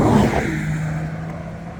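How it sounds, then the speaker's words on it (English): A grey car speeding past on a residential road, a loud close whoosh at the start that fades into a lingering low rumble as it moves away. "that grey car goes past every single morning, fast"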